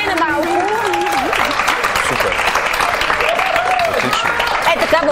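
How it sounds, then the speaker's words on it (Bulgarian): An audience claps steadily for Sofia on a Bulgarian studio comedy show, a dense, continuous patter that lasts throughout while voices talk and exclaim over it. "Аплодисменти за София."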